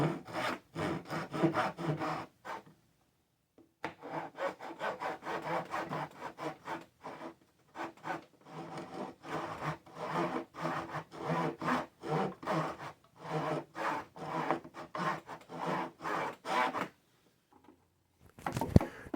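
A hand saw cuts down into wood for a rabbet. Rhythmic back-and-forth rasping strokes come up close, grouped in steady runs with short pauses between them.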